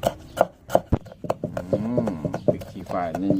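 A knife chops seasoning ingredients such as garlic and bird's eye chilies for a spicy dipping sauce served with boiled pork, giving sharp, irregular taps while someone talks over them.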